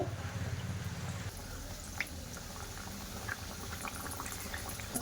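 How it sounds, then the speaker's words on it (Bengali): Chicken patties frying in hot oil, a steady soft bubbling with low rumble that thins after the first second, with small pops and crackles scattered throughout, close by and alone. "তেলটা গরম হয়ে গেছে এবার একটা একটা করে প্যাটিসগুলো দিয়ে দেব"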